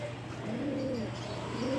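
Pigeons cooing close by as they come in to land, soft repeated throaty coos over a steady low background hum, with no talking.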